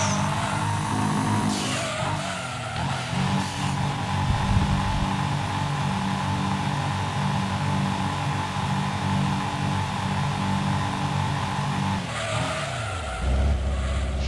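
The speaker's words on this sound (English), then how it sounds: "Jeez, a bit too hard on the brakes" A race car in Gran Turismo 2 braking hard at Grand Valley, with tires squealing and skidding over a steady engine drone, loud and sustained, then the engine revs up again near the end.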